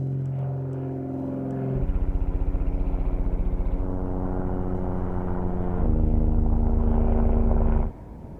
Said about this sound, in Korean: 확실히 헬리콥터나 다른 비행체에 비해서 조비 에비에이션의 그 소음은 작습니다